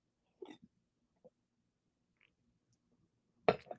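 A few hiccups spaced irregularly in near silence, soft and close, ending in a louder, sharper burst.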